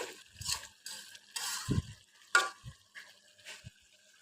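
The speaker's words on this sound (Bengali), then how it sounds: "আমি একটু আলতো করে নেড়ে দিলাম নিচে" A spoon gently stirring a thick drumstick, potato and tomato curry in a pan, producing soft, separate scrapes and brief wet sizzles with quiet gaps, close and faint.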